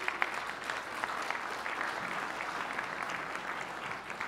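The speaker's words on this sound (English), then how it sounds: "I think we're going to have another round of applause for it" Conference audience applauding Cilium's graduation in the CNCF, a steady wash of many hands clapping throughout, moderately loud and continuous with no voices on top.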